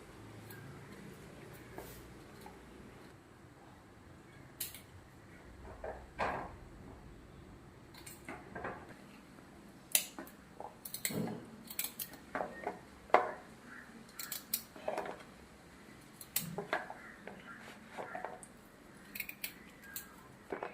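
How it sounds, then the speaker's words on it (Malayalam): A knife finely chops tough jackfruit seeds on a board, a soft steady run of small cuts and taps that grows busier and louder in the second half, heard close with no talk. "നല്ല ചെറുതായിട്ട് ഞാൻ അരിയാണ് ഇച്ചിരി കട്ടിയുണ്ട് കേട്ടോ"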